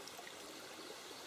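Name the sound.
river water flowing in a video game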